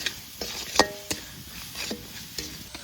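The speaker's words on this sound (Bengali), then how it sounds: "এই মশলাগুলো একটু কষিয়ে নিই" Spices, chili paste, onion and garlic frying in a pan while being stirred, giving a soft sizzle with several scrapes and clinks of the utensil against the pan, close and fairly quiet.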